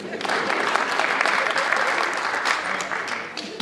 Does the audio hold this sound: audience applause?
yes